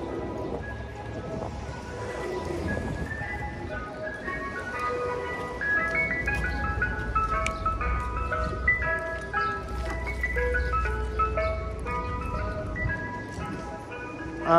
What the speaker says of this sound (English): Ice cream truck in the hood trying to make some money.